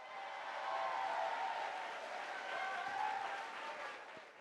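An audience at a youth mock trial competition awards ceremony claps steadily, a fairly distant, moderate wash of applause that swells slightly and carries on with no voices above it.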